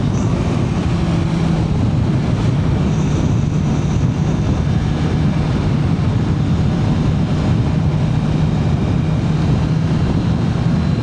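Strong, potent wind blowing across an open countryside road, a steady loud broadband roar and buffet filling the whole stretch without pause, close and alone with no talk.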